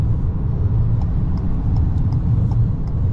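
A 2022 Ford Maverick XL AWD pickup with a 2.0L engine cruising at about 60 mph, heard from the cabin as a steady, loud low road rumble with faint wind noise and no talking.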